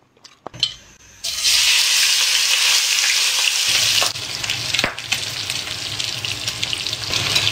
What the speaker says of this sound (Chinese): 翻炒